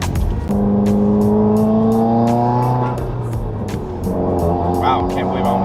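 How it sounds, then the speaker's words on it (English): Subaru WRX with a built block, tuned on ethanol flex fuel and fitted with an intercooler and blow-off valve, revving up through a gear with rising engine tones, then lifting off for a brief shift with a hiss, close and loud inside the car. "that blow-off valve sounds so good with the intercooler"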